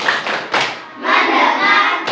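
A school class claps a rhythmic focus clap together, with sharp bursts of many hands between chanted group voices, close and loud.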